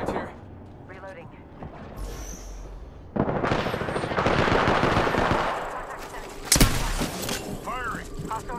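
Automatic weapon fire in the Apex Legends battle royale game, rapid bursts building from mid-distance into a loud sustained stretch with a sharp crack near the end, under a player's voice.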